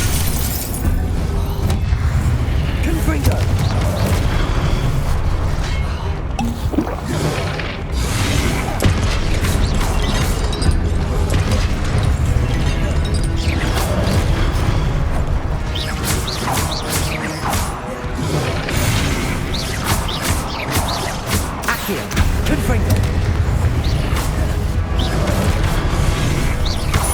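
Repeated Confringo fire spells exploding in Hogwarts Legacy, a dense, loud run of crashing, booming blasts and clattering debris layered over constant game noise for the whole stretch.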